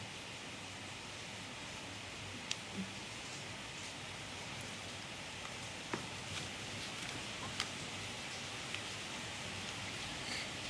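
Steady rain falls at night in Bali during flooding, a continuous even hiss with a few faint scattered taps and drips, heard alone without talk.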